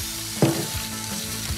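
Water poured into a hot pan of green beans with mushrooms and potatoes bursts into a loud sizzle, then settles into steady frying crackle with faint stirring.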